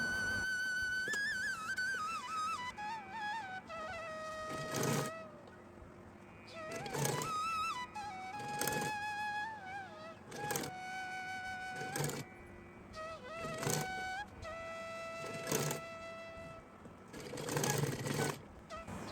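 A sewing machine stitching a trim strip along the edges of a small flower-pattern dress for a Laddu Gopal idol runs in short repeated bursts, with steady background music playing throughout.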